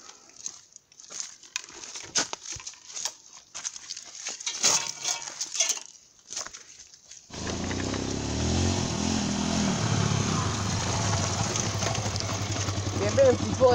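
Motorcycle ride in which steady engine and road rumble builds from about the midpoint and continues loud to the end, after a first half of scattered bursts and handling noises.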